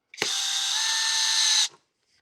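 A cordless drill driver spins a screw in for about a second and a half, a loud, even motor whine that starts and stops abruptly, heard alone.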